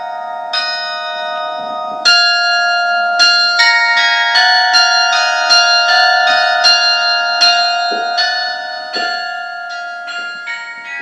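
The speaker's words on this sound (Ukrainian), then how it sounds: "А ще ой, чуєте? Чуєте дзвін?" Church bells ring out loudly and repeatedly in an irregular peal during a Ukrainian Unity Day school event, overlapping tones sustaining and fading, with no voices present.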